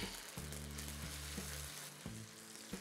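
Onions with ginger-garlic paste sizzle steadily in a pan, with a few soft scraping stirs at intervals and no talking.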